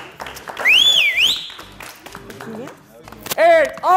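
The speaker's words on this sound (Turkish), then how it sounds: "Alkışlarla uğurluyoruz." A studio audience claps and whistles in short bursts, with rising and falling whistle tones and scattered applause at moderate loudness while voices talk throughout.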